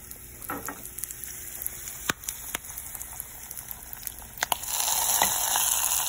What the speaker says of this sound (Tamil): தாளித்து கொட்டியாச்சு